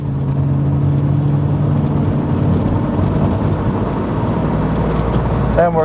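A 1997 Chevrolet Camaro SS pulls away under throttle, its loud engine drone holding steady and then rising in pitch through a gear change near the end, heard from close by with no talking.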